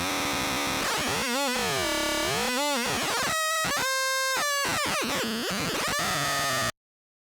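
Mavis synthesizer oscillators produce chaotic noise: harsh buzzing tones that warble, sweep and break into squealing patterns, loud and alone, then cut off abruptly into silence.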